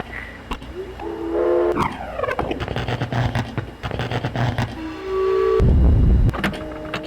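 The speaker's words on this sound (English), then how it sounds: "Now we need the clock noise." Mechanical chiming and clanking puzzle sounds from the clock in Myst Masterpiece Edition, a series of tonal clicks and ringing bursts with a heavy rumbling swell near the end, loud and without speech.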